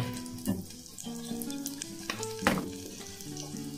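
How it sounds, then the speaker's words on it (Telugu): Chopped garlic sizzles in ghee with cumin and mustard seeds as Andhra-style ulava charu is made, a soft crackle with a couple of sharper pops and background music. "వెల్లుల్లి చిన్న చిన్న కట్ చేసి ఘీ వేసా కదా దాంట్లో వేగుతుంటది అనమాట"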